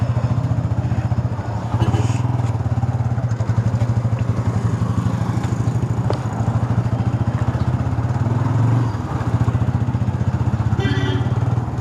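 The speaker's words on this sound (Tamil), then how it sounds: "எக்ஸாஸ்டோட சவுண்டு வந்து ரொம்ப அதிகமாக இருக்குது." A Bajaj NS200 motorcycle with a loud aftermarket exhaust drones steadily and close on a road trip from Madurai toward Kodaikanal, a throbbing low engine note running throughout with faint background noise.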